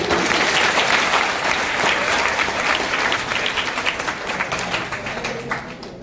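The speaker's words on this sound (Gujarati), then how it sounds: "આપણે તાળીઓથી અભિવાદન કરીએ." An audience applauds at an Independence Day celebration held at an Indian college of education, a dense, steady wash of clapping that slowly thins and fades toward the end.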